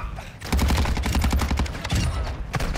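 Sustained loud automatic gunfire in Call of Duty Modern Warfare DMZ, with rapid shots packed into dense bursts that run almost without pause and break briefly near the middle.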